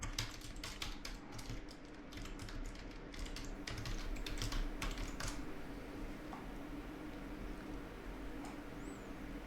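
Quick, crisp keystrokes on a Dell Chromebook 3400 keyboard while an email address is entered, busy for about five seconds before fading into a quiet room hum.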